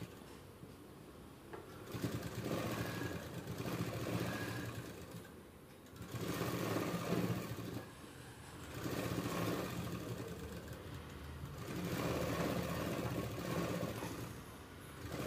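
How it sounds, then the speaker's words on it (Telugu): A sewing machine stitching piping on fabric, running in four steady whirring bursts with short pauses between them, close and clear with no talk. "ఇప్పుడు ఇలా గోరుతో గీకేసుకుని ఒక స్టిచ్ వేసేసుకోండి"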